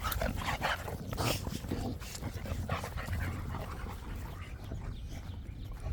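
A dog named Devo pants rapidly and steadily close by in a yard, with brief whimpers and occasional faint voices in the background.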